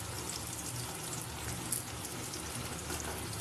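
Onions fry in a pan with cumin, giving a steady, even sizzle and crackle throughout, close and unbroken, with no talking.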